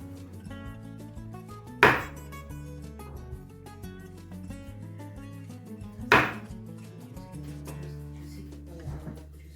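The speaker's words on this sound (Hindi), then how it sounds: "अब इसको हम काटते हैं और फिर आपको सर्व करके दिखाते हैं" Knife cutting through crispy, juicy fried chicken on a board: two loud, crunchy chops several seconds apart, with faint kitchen clinks and a low background hum between them.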